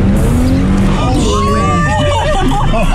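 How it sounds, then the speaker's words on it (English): Cars spinning and skidding during cadet driving training, with squealing tyres sweeping through rising and falling whines over steady engine noise and a background babble of voices. "It's hard to keep the cars not spinning around."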